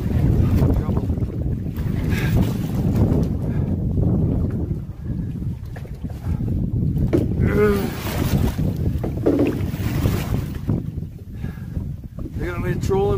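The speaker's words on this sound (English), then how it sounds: "wind taking me way out here" Strong wind blows across open water around a small fishing boat with a trolling motor, a loud steady roar and buffeting in the microphone throughout, as someone talks now and then over it.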